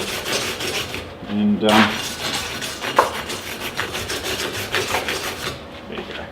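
A fresh weld on a steel rear bar is cleaned off with steady abrasive rubbing and rasping. The scraping runs continuously and close-up, with a brief spoken phrase partway through.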